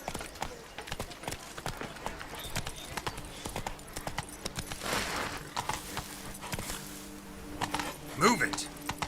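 Geralt's horse Roach trots in The Witcher 3: Wild Hunt, Blood and Wine: a steady, quick clip-clop of hooves, close and continuous, with a background ambient hum.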